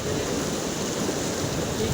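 Fast-flowing Ganga river water at Haridwar rushes in a steady, dense roar, close and continuous, with no voices.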